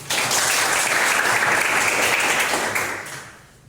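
Applause from a classroom audience during a public-speaking lesson, a dense steady wash of clapping lasting a few seconds before tapering off, with no voices.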